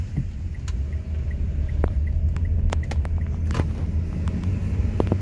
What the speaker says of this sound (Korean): 제가 U턴 한번 해보겠습니다